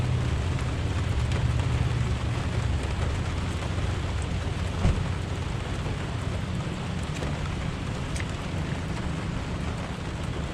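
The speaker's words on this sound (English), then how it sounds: "it's raining quite a bit" Heavy rain pours steadily outdoors beside a 2002 Toyota Camry under repair, a constant broadband hiss with low rumbling underneath and an occasional brief knock, unbroken and without voices for about ten seconds.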